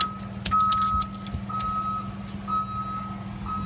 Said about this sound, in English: Oh, there's the bus coming in.